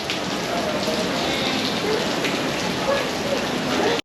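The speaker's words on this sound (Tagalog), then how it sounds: "Ayan na, umulan na." Steady rain in Singapore near Marina Bay, an even, dense hiss of drops pattering on surfaces throughout, loud and close with no break.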